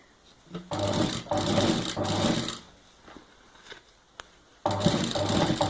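A sewing machine stitches cloth for a diaper bag in two loud whirring runs, the first about two seconds long broken by brief pauses, then quiet handling before the motor starts again near the end.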